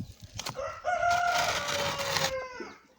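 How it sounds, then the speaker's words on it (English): Local chickens kept on a smallholding give a drawn-out crowing call with clucking around it, fairly close and clear, with no talk over it. "Okay, that is one of the 4 hens."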